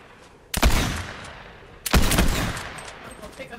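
Two loud, sharp rifle shots in Fortnite Zero Build duos, about a second apart, each cracking sharply and then trailing off in a long ringing echo, with no talking over them.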